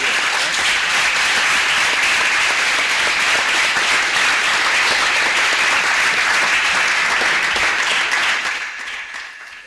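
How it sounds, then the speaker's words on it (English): A large audience at a student event bursts into loud, dense, sustained applause that holds steady for several seconds before fading toward the end. "let's give your loved ones a nice big round of applause"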